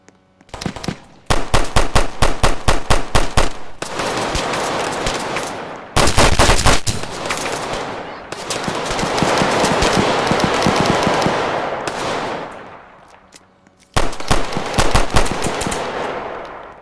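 Rapid automatic gunfire in a gang wars video game, loud and close, coming in long sustained bursts broken by short pauses, with one stretch of dense roaring fire that swells and fades before a final burst.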